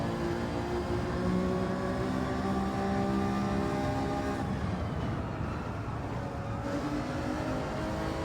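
Race car engine in Gran Turismo 7, a Gr4 Alfa Romeo 155 at Tokyo, dropping two gears and driving out in fourth: a steady loud engine drone with shifting pitch throughout, no talk.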